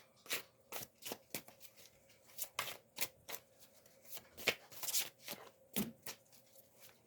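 Tarot cards being shuffled and drawn, a run of sharp, irregular riffling snaps and soft slides close by with brief pauses between bursts; no talking.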